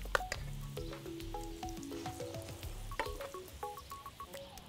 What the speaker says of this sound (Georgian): დებთ გახურებულ და გაცხელებულ ტაფაზე.